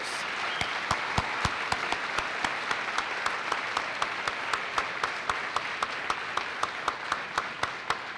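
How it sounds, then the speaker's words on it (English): An audience at a high school senior honors night gives a round of applause for graduating seniors entering the Marines, with sharp, fairly regular claps sounding over a steady wash of clapping for the whole stretch. "Let's give these guys one loud round of applause."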